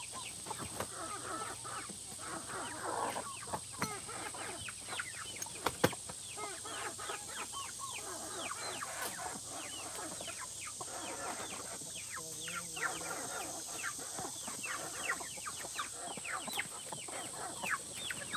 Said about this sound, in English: My hen and that little baby.